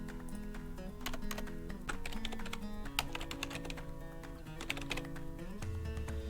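A computer keyboard typed on steadily at close range, quick irregular key clicks over a humming background.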